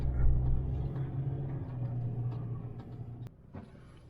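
A car driving around Bournemouth, with a steady low engine and road rumble heard from inside the cabin. A sharp knock comes near the end, then the rumble drops quieter. No talk.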